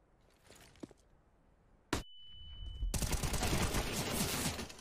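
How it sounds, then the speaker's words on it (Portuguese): Rapid gunfire bursts in a Counter-Strike match between G2 and FURIA at IEM Katowice, a sharp shot and brief tone followed by loud sustained automatic fire, with faint footsteps and game noise before. "O Monesi, ele tá aí tentando tiros rápidos"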